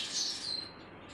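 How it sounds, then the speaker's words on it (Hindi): Small birds, likely sparrows, chirp at dawn around 5 a.m., a bright continuous twittering that is fairly faint and steady and heard without any talk. "सुबह का वक्त है, चिड़ियाँ जाग गई हैं, चहचहाट हो रही है।"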